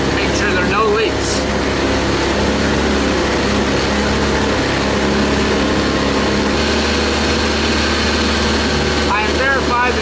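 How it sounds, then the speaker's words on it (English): A Viking 130 engine idling steadily during a first-start checklist, a loud continuous low drone with a constant hum, joined by faint high squeaks and chirps near the start and end. "to make sure the alternator is able to keep the engine running."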